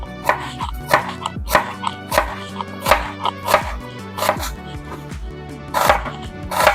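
Steady rhythmic knife chops on a cutting board as meat is cut into strips, about two per second, sharp and close, with no talking.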